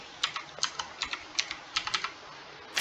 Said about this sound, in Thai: พิมพ์ตามนี้เลยนะครับทุกคน